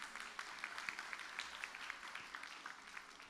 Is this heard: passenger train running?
no